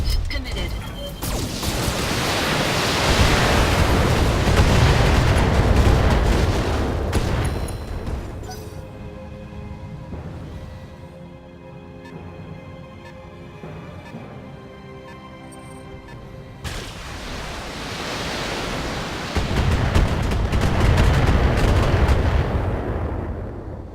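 Heavy mech weapons fire and explosions in the BattleTech video game, loud rumbling bursts at the start and end with a quieter stretch of tonal hum between.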